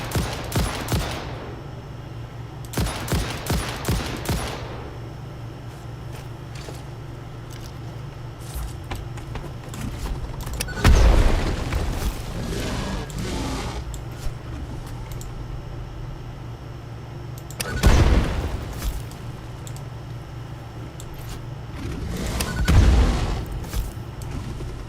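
Bursts of video-game gunfire from shooting enemies in Satisfactory, several loud rapid volleys with booming impacts spread across a steady mechanical background hum.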